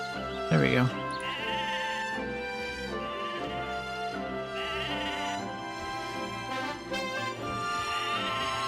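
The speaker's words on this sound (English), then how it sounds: "Okay, that sheep's out of wool." Sheep bleat over the in-game music of the video game Mabinogi during shearing, the cries mixing with a brief voice early on while the looping music plays throughout.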